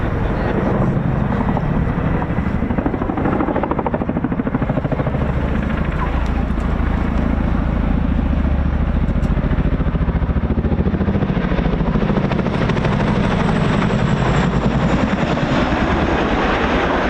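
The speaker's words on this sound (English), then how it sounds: "So with a bit of a flourish, the Chinook repositions to enable the 2 American fighters" A twin-rotor Chinook helicopter repositions at an air show at RAF Cosford, its loud, deep rotor throb and engine roar close and continuous, swelling and shifting as it moves, with voices under the noise.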